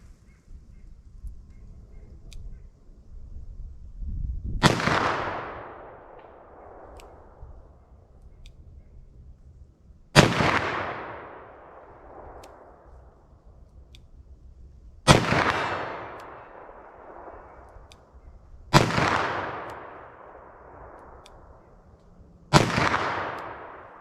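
Five .357 Magnum revolver shots with Winchester Defender rounds, fired slowly one at a time several seconds apart, each a loud sharp crack trailing off into a long echoing decay.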